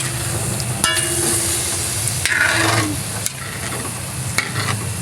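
Pork meat sautéing in a pan for afritada crackles in a loud, steady sizzle, with stirring scrapes and a few sharper clatters of the utensil.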